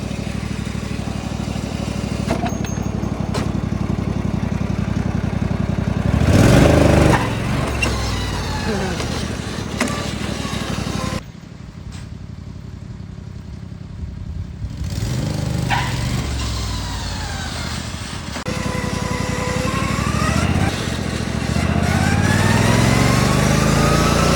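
A V-twin engine in a racing lawn mower roars loudly through a clutch dump and revs up and down in surges, cutting out briefly before restarting. Voices talk over parts of it.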